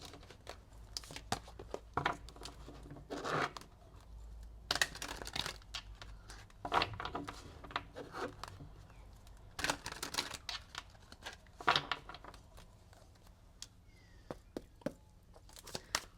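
Tarot cards are shuffled close by in quiet, irregular bursts of papery riffling and flicking, with scattered clicks and short pauses between handfuls.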